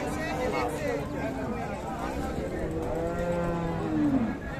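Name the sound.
cow mooing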